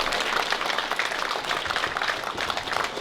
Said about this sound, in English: So big round of applause for Sarah.